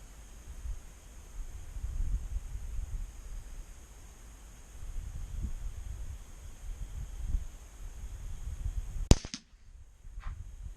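A single sharp .22LR rifle shot, CCI Mini Mag hollow point fired into ballistics gel outdoors, cracks once near the end after a long stretch of gusty wind noise.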